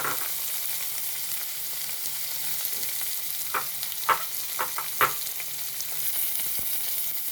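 Sliced onion and green chili fry in a pan for a sardine curry, a soft steady sizzle broken by a few sharp spatula knocks and scrapes midway, with no voices.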